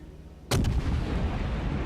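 Naval guns fire in a warship video game, an American cruiser in a team match: one sudden loud broadband blast at half a second, followed by a long rumbling roll that sustains to the end, with no talk.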